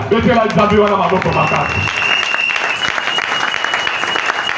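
A church congregation at a Sunday service bursts into applause; a voice is loud over the clapping at first, then the clapping runs on alone.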